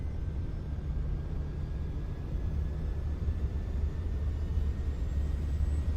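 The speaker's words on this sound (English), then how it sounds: "The amazing sounds of CowanSim's AS350" Simulated AS350 helicopter engine starting up in a CowanSim flight simulator, heard from outside as a steady low rumbling whine with a faint thin high tone, even and continuous throughout.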